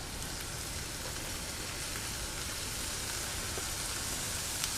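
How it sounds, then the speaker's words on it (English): Peas and reserved bacon fat in a hot pan, sizzling as a dense, steady crackle that holds at an even level from start to finish with no voices. "to this pan we're going to add some of the peas and also some of the reserved fat from the bacon"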